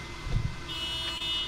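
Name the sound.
car horn beeping set off with key fob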